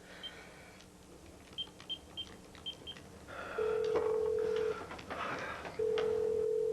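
A telephone is dialed with a run of short keypad tones, then a steady ringing tone sounds twice in long bursts, moderately loud in a quiet room.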